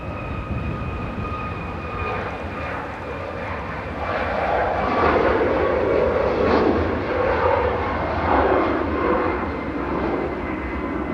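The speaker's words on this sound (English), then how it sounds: "It's 98 GTA departing to Tenerife South for TUI. So I think that's a SmartLynx operated 737 MAX 8." A SmartLynx-operated Boeing 737 MAX 8 flying for TUI departs Manchester Airport for Tenerife South, its engine roar building and swelling midway as the jet climbs, then holding steady and loud.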